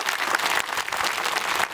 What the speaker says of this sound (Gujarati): 2 મિનિટ ઊંચા હાથ કરીને સતત તાળી થઈ જાય